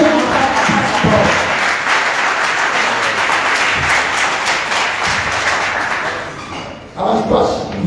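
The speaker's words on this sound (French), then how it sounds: "Voilà un peu brève présentation de notre conférence du jour que je vous invite de l'applaudir." Audience applause breaks out at a press conference, a dense wash of clapping that fills most of the stretch, then fades as a voice begins speaking near the end.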